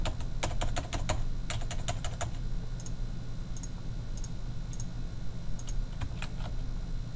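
Billing information being typed on a computer keyboard: quick clusters of close key clicks early on, then slower, sparser taps over a quiet room hum.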